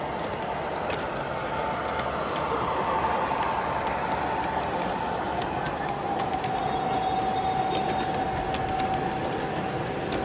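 Pan Am OCS model train running on a club layout at the Amherst Railway Society train show, a steady rolling rumble with a faint squealing whine in a busy hall, continuous throughout.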